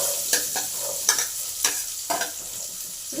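Onions fry in a pan under a soft sizzle, with a spatula scraping and stirring in about half a dozen sharp, irregular strokes close by.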